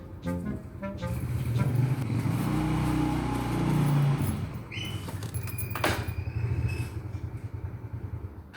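A motorcycle engine idles and revs nearby as the bike is pushed indoors, with a door sliding and clattering partway through. The engine's steady running continues beneath the knocks.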